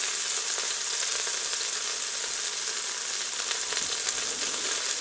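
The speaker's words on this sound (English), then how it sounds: "Obviously you can hear the oil is popping" Beef browning in hot oil seasoned with garlic powder, giving a steady, loud sizzle with constant crackling and popping of the oil, heard up close with no voices.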